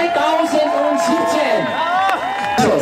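A crowd at a world championship celebration cheers and whoops for the reigning champion, loud and sustained, with shouting voices overlapping throughout.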